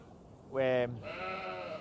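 A newborn lamb, about an hour old, gives one clear, close bleat on a farm during lambing, followed by a softer, wavering second cry.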